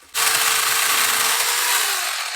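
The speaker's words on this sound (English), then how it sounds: "we were also able to use the mini chainsaw to cut down the thicker pieces" A mini chainsaw starts abruptly and runs at a steady, loud, high-revving buzz while cutting thick vine, close up, with no pauses.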